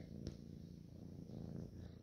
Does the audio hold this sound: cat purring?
yes